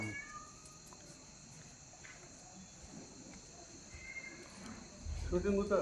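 A cat gives a few faint meows near the end in a quiet setting, with soft voices and light background noise around it.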